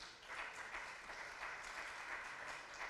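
A church congregation claps together at a worship service, steady dense applause continuing throughout at a low, distant level with no break.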